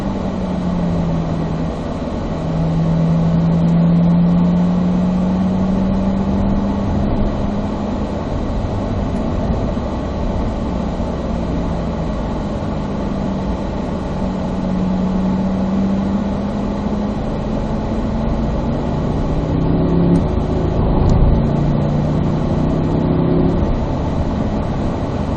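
A Corvette Z06 on a race track with the engine droning loudly and steadily from inside the car, its pitch slowly rising and falling and briefly shifting near the end.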